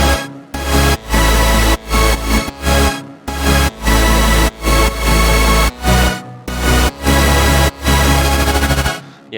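Melodic dubstep drop with heavy kick and snare sidechained onto sustained chords, loud dense synth chords pumping and ducking in a regular rhythm, with deep bass thumps on each beat throughout.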